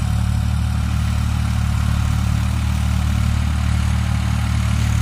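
A tractor engine runs while tilling a wheat field, holding a constant low, droning hum with a steady rhythmic throb. It is close and continuous, with no talking.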